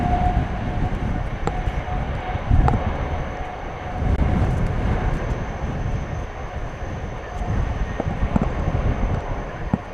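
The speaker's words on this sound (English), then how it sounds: "We may well get photobombed by that A300 UPS plane, which is now taxiing over to runway 18 left." A UPS Airbus A300 taxis toward runway 18 Left at windy DFW airport, a steady broadband engine roar with a faint high whine persisting throughout, swelling slightly midway, with no talk over it.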